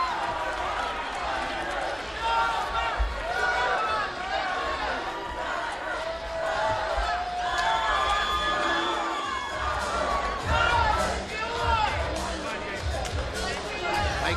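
A large fight crowd at The Joint in the Hard Rock Hotel and Casino, Las Vegas, cheers and shouts steadily, a loud roaring mass of voices that swells in waves, with a commentator talking over it.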